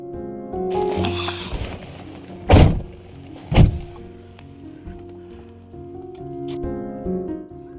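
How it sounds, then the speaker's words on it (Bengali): Someone getting into a car, with rustling and shuffling followed by two loud, close door thumps a second apart, then a quieter cabin with faint clicks. "এবারে আবার গাড়িতে উঠে রওনা।"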